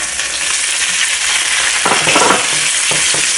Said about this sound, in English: It's a medium heat for now and we're gonna add the pork